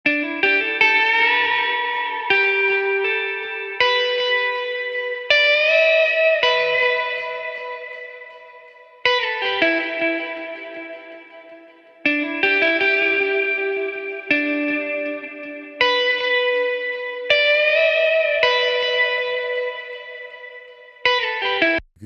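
A loop built in FL Studio layers pianos, a Moog bass and a sampled Nitro Audio guitar phrase, heard as bright plucked melodic phrases that repeat in a steady cycle, drenched in effects and reverb, with no voice.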